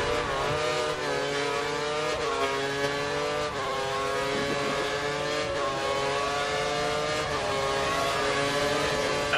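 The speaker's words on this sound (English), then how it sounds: "Okay, it looks like the car ahead is trying to create a gap. He's running full revs, maximum power." Formula 1 race car engine in the F1 2013 racing game at Imola, screaming at full revs with a high, sustained harmonic whine that climbs and drops through repeated gear shifts, loud and continuous.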